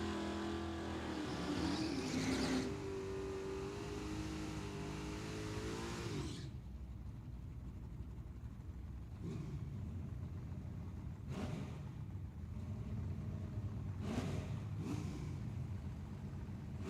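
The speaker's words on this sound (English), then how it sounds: "Joe Cox going to be rolling in now on the left side, and my Texas Chevelle." Drag racing cars, including a Texas Chevelle, rolling in at Tucson Dragway: a loud engine roar and revving at first, then a lower rumble from distant engines with occasional bursts.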